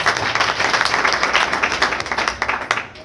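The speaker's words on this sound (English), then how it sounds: "She deserves a round of applause." Applause from a crowd at a university cabinet swearing-in ceremony, honoring the patroness. The clapping is dense and steady, fills the whole stretch, and thins a little toward the end.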